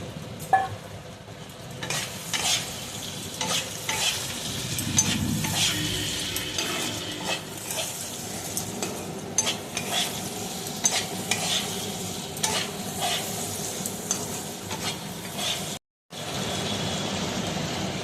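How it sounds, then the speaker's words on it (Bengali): Fried chicken pieces stirred in a sizzling pan for homemade chilli chicken, with a steady frying hiss and repeated scraping, clattering spatula strokes close by, no talk. "এবারে আমি এর মধ্যে এই ভাজা চিকেনগুলোকেও সব দিয়ে দিলাম"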